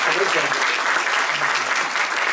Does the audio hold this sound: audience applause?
yes